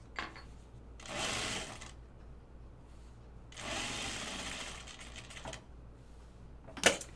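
Sewing machine stitching an ornamental flag, running in two sustained bursts of rapid stitching separated by quiet pauses, ending with a sharp click.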